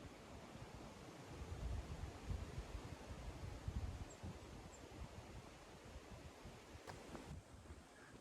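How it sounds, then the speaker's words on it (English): Steady, blustery wind roars across the microphone on the high, exposed Cotswold hills, a continuous low rumble with gusts swelling and easing, with no voices. "sorry if you can't hear me over the wind"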